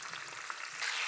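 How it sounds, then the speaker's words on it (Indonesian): Eggplant frying in a little oil over low heat gives a soft, steady sizzle that holds evenly from start to finish and swells slightly near the end, with no voices. "Ini kita goreng dengan api kecil aja"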